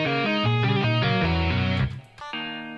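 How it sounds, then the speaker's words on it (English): Punchy slap bass plays a quick run of distinct plucked notes, loud and close, then pauses briefly before another held note returns. "Slap bass."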